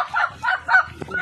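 An eight-year-old rooster, weak and partly paralysed with age, gives three short, hoarse calls in a steady rhythm, close and fairly loud, with a brief extra sound near the end.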